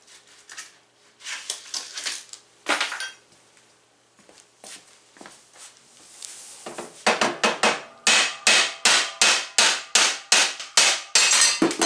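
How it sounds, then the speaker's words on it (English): Repeated sharp hammer strikes on the metal of a wood stove, a few scattered blows at first, then a fast steady series of loud close hits. "Get the hammer, see if I can pop that off."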